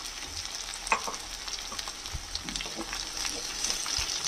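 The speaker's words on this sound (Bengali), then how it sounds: "আলুটাও হালকা করে ভাজা হয়ে গেছে।" Potatoes fry lightly in a pan, giving a steady close sizzle with scattered pops and occasional soft scrapes of stirring throughout.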